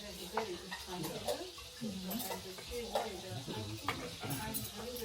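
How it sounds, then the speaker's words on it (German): A fried egg or sausage sizzling in a frying pan in a Berlin kitchen, with a steady crackle of hot fat and scattered clinks of utensils against the pan, heard close up while people talk quietly nearby. "Was da gerade brutzelt? Oder das klingt auch nach Wurst."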